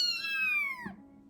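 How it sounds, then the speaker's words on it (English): A week-old kitten gives a single thin, high meow that bends downward and fades within about a second, close and fairly soft. "Do you love animals, like adorable week-old kittens?"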